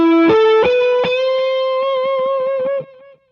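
A sustained electric guitar note through an Xotic EWS Fuzzy Drive pedal with thick fuzz distortion, shifting pitch slightly with a few picked attacks, ringing smoothly before cutting off.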